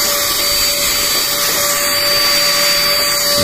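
A portable 2-in-1 vacuum cleaner that also works as a blower runs at full power, giving a steady, loud, close motor whine with an unbroken airy rush and no pauses or voices.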